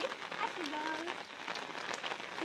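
Light rain falls steadily, giving a faint, even hiss of drops on surfaces with no breaks.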